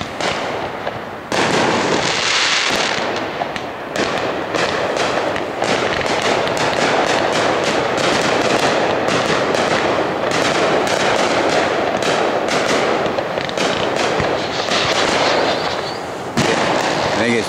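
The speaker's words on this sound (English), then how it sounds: "Best fireworks I've seen of the year." Fireworks at a speedway burst and crackle continuously at a distance, a dense rumble of booms and pops with crowd noise underneath.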